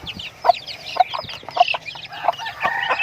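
Chickens clucking in a batch of hens and young chicks, with short repeated clucks and chirps scattered throughout, fairly close and alone without talk.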